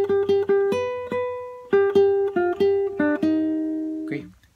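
Short guitar melody fragment from a song, a handful of clear plucked notes in a quick rhythm, ringing close and alone before fading out.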